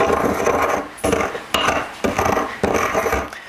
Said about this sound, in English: we're just going to grind it with the pestle